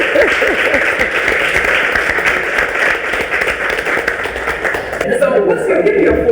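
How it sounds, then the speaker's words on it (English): Loud, close audience applause welcomes a guest onto a talk show about natural versus relaxed hair. The clapping stays dense and steady for about five seconds, then breaks off abruptly. "Give her a round of applause."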